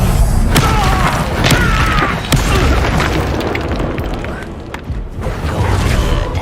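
Incendiary fire spell cast during combat in the video game Hogwarts Legacy, a loud sustained whooshing burst with booming impacts and crackling pops over a dense battle din.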